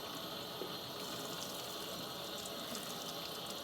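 Water runs steadily from a tap while hands are washed with soapy water over a cutting board, a constant close hiss with no voices over it.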